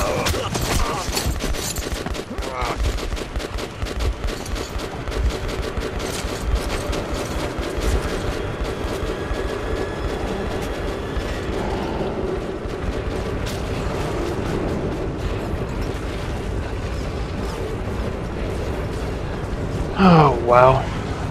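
Dense, continuous heavy gunfire and clattering combat noise in the shooter Metro 2033 Redux, a dull, rumbling barrage running throughout with voices talking over it.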